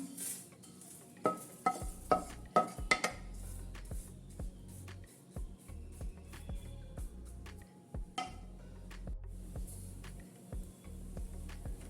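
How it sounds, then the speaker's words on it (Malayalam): A spoon stirs a thick oats and dates mixture in a pan with the flame off, giving soft scraping and a few sharp metallic knocks against the pan, quiet and close, without talk. "നമ്മൾ ഓഫ് ചെയ്താലും കുറച്ചൊന്ന് ഇങ്ങനെ ഇളക്കി കൊടുക്കണം"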